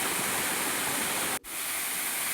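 Dabarkhola waterfall inside a reserve forest, its water pouring in a loud, steady broadband rush heard up close, with a momentary dropout partway through before the roar resumes.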